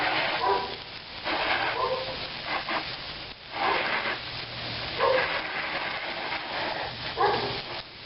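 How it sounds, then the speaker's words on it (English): A restless dog barks in short repeated bursts, several spaced yelps and woofs at moderate distance, while a motorhome is washed at an RV site under steady background hiss. "So sorry about the barking"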